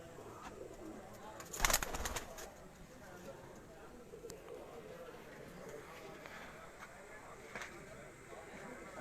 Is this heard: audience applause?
no